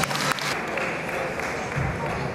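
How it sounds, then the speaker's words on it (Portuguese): Brief round of audience applause for Sr. José, a fado singer, steady and dense with crowd murmur and voices mixed in. "Uma salva de palmas para o Sr. José."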